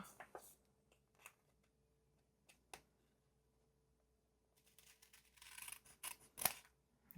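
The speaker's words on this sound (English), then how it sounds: "so that I don't cut off the envelope flap itself. Just following the edge of the envelope." Scissors snipping along the edge of a paper envelope, a few sharp isolated cuts followed by a quicker cluster of crisp snips, close and quiet.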